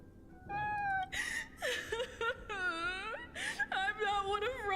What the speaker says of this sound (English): I love the meows too